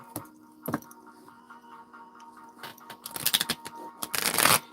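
A deck of tarot cards being shuffled by hand, soft riffling and sliding of card stock with scattered taps, building to louder fluttering bursts near the end, close and without talk.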